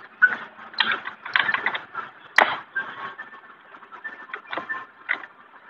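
Screws being tightened on the rear body panel of an Aprilia BS6 scooter, a close run of clicking ratchet and rattling metal-on-plastic ticks in quick irregular bursts.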